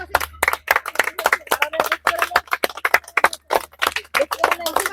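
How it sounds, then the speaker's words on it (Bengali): Fast, rhythmic hand clapping from several people at a party game of blowing balls into glasses and popping balloons, sharp claps packed densely and loud throughout with some voices mixed in. "জোরে করে হাত তালি হবে"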